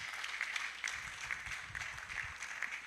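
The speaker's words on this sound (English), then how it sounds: "Please, can we give him a round of applause" A round of applause at an international engineering conference, a faint, even spatter of many hands clapping in the hall that continues without a break.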